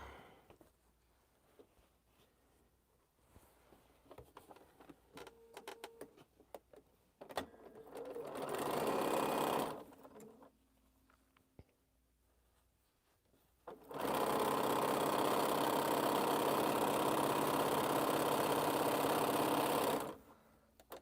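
A sewing machine stitching quilt pieces from strings runs in two bursts of fast, steady mechanical whirring, the second longer and louder, separated by quiet pauses with faint handling noises.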